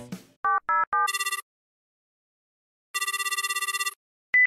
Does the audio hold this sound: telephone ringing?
yes